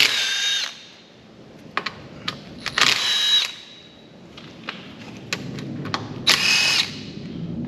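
Tools work at the transmission oil pan of a Lexus with an 8-speed automatic. Several short bursts of a power tool whir close by, broken up by metallic clicks and thuds.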